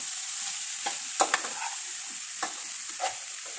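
Vegetable poriyal stirred in a pan, a steady soft frying hiss underneath with a few brief spatula scrapes and clicks scattered across it, close and without talk.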